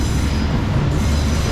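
A Norfolk Southern 22X freight train rolls past eastbound, a loud, steady, close rumble of rail cars and wheels with no gaps and no voices.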